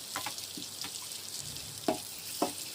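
Onion and tomato sizzle softly as they are stir-fried in a pan, with a steady low frying hiss. Two sharper utensil scrapes stand out near the end, and no one speaks.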